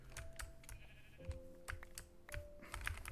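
Sheep bleat in a blocky survival video game, short wavering cries heard a few times amid quick clicking keyboard taps, all fairly quiet.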